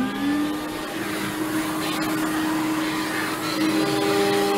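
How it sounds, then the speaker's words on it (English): A shop vacuum serving a CNC router whines steadily and loudly, its tone holding a constant hum with slight pitch shifts throughout. "Let me start up the vacuum."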